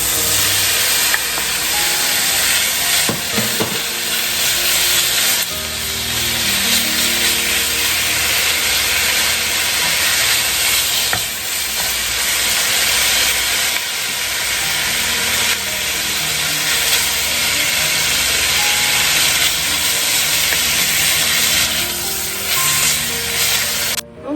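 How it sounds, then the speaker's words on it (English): Andouille sausages sizzle in a pan as cabbage fries, a loud continuous steamy hiss with occasional rubbing scrapes of utensils and no talk. "put in our sausages."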